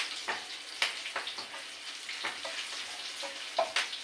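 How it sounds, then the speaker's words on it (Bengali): Garlic fries in mustard oil in a pan, giving a soft, continuous sizzle with scattered crackles and pops, fairly close and without any talk. "রসুন একটু লাল করে নেবো।"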